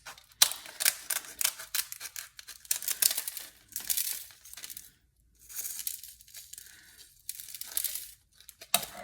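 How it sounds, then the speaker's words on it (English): Kitchen scissors snip and crinkle through dried guajillo and California chilies as the stems come off, making bursts of crisp crackling and cutting separated by brief pauses, close and fairly quiet. "I'm going to use the scissors to cut the stems and remove the seeds."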